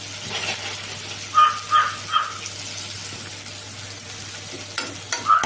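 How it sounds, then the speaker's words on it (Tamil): Something sautés with salt in a pan for a traditional fish curry, a low sizzle with intermittent stirring scrapes and clinks, fairly quiet and close, with no voices. "இதை இப்போ நல்லா வதக்கணும். கொஞ்சம் வதங்கத்துக்கு உப்பு போடுறோம்."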